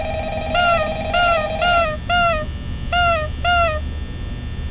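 Phone ringing in Five Nights at Freddy's, six short electronic rings in a steady rhythm, each a bright falling chirp, over a low constant hum of room ambience.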